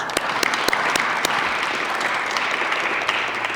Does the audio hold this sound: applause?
yes